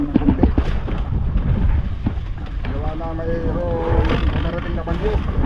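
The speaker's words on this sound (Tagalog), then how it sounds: "Ayan, medyo hangin ng konti." Wind gusts roar across an open boat at sea facing the waves, with steady buffeting noise against the microphone while someone talks over it.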